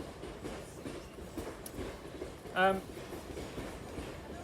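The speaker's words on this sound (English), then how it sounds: "I'll just let the train come by." A train passes by outdoors, a low steady rumble with a brief horn-like tone in the middle, heard faintly while a person talks over it.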